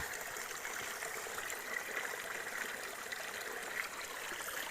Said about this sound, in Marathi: हा झरा आहे कसा या झराच्या बांधाच्या मेरेक असतात